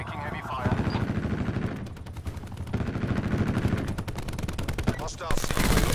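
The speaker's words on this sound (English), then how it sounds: "Taking heavy fire." Heavy automatic gunfire from a Call of Duty match on the Nuketown map, with rapid bursts of machine-gun fire and shots going off in dense, near-continuous volleys and louder blasts at the end.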